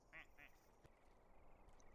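A pet duck called the clown duck gives two short, faint quacks in quick succession, heard alone against quiet background noise.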